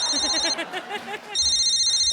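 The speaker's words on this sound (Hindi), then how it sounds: "एक मिनट, फोन आ गया" A telephone rings on a stage comedy show, two bursts of bright electronic ringing separated by a short spoken line, fairly loud and close.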